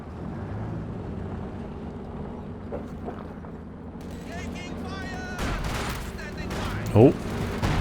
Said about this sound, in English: Oh, that was a big shot from the Brumby